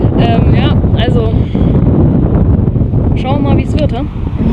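Heavy wind buffeting a microphone during a mountain hike near Covão dos Conchos in Portugal's Serra da Estrela, a loud constant low roar under intermittent talking.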